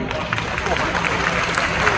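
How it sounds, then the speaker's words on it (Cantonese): Dense, steady applause from a crowd welcoming guests to a handshake ceremony at a Hong Kong basketball match, filling the space evenly without pause. "掌聲歡迎"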